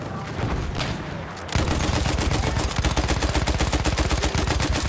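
Rapid automatic gunfire in Battlefield 1, a quieter rumble of shots giving way to a loud, dense stream of close bursts that runs steadily to the end with no talking.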